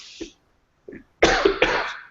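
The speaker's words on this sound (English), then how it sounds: "you'll have to excuse my cough" A couple of harsh, close coughs in quick succession after brief soft sounds and a pause.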